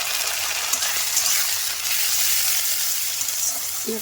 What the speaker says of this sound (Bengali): তেলগুলো সব একসাথে আমি এখন ভাজা ভাজা করবো খানিকক্ষণ